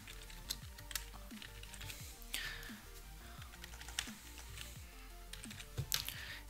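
Credit card details being typed on a computer keyboard, a quiet, close run of irregular key clicks and taps with short pauses and no talking.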